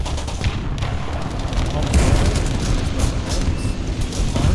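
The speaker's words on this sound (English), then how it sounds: "Bombs hit." Bombs strike in the War Thunder combat game, a dense rumble of booms and rattling gunfire that is loud and sustained, with a voice partly audible beneath the blasts.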